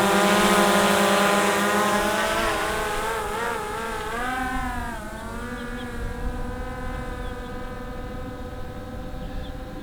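A DJI Mavic drone flying in reverse and climbing gives off a loud buzzing whine of layered tones. The pitch wavers and shifts as it manoeuvres, then settles and slowly fades into the distance.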